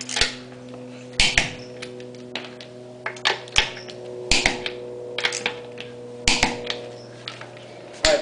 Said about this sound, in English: the torque wrench will make a clicking sound